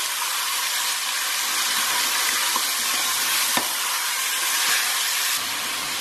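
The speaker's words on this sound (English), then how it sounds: "So we're going to mix this beef stew with the ginger and garlic and onions and brown it nicely" Beef is browning in a pan with ginger, garlic and onions, giving a steady, close sizzle and fry with faint stirring scrapes throughout.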